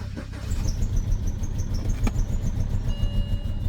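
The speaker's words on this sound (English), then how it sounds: "Yeah, it's misfiring and cuts out." A BMW engine runs roughly, misfiring and cutting out, with a steady low rumble and uneven pulses, close and moderately loud with no talk over it.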